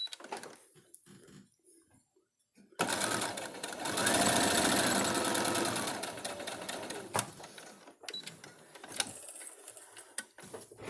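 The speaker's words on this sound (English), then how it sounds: "So take this over to your sewing machine" A sewing machine stitching along a marked line on an autumn leaves table runner, a close rapid mechanical whir running for several seconds after some quiet handling, then slowing into scattered clicks and taps.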